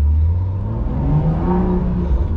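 A tuned BMW M2 with a stage 1 remap revs up loudly and close, its engine note climbing in a steady rising whine with a rough low rumble underneath.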